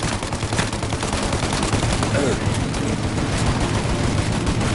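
Dense, continuous gunfire and machine-gun bursts in a firefight, loud and close, with overlapping shots and booms filling the whole stretch and no clear pauses.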